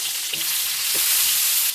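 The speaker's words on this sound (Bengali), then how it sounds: "তেলটা গরম হয়ে গেছে, এবার একে একে বেগুনগুলোর মধ্যে দিয়ে দেবো" Turmeric-coated eggplant pieces fry in hot mustard oil in a pan, a loud, close, continuous sizzle that swells slightly toward the end, with no talking.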